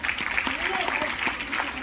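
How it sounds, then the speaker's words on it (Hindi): An audience at a children's science congress lecture breaks into steady applause, a dense patter of many hands clapping close and fairly loud, with a voice speaking through it. "ताली बजाइए आपको"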